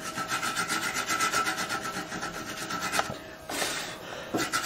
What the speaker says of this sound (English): Now, go ahead and show the wood sample after we've scraped away the surface that's been charred. Scrape the wood.